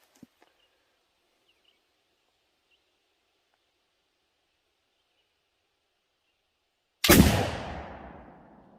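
A single loud gunshot from a Pedersoli Kentucky pistol bursts out after a long near-silence, then decays and rings out over the following second.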